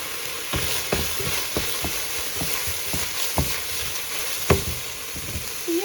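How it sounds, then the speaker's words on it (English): Ground turkey browning in a pot with Italian seasoning, stirred with a utensil: a steady close sizzle under a series of regular scraping knocks against the pot, about a dozen strokes, with no talking. "Give that a stir."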